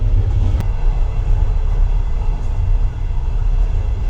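Train rolling into Kyiv, a steady loud rumble of the carriage with rhythmic wheel noise, heard from inside the car, with no talking.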